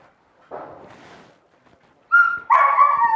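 A dog barks in short bursts: a rough, noisy bark first, then after a pause two louder, sharper, higher yelps close by.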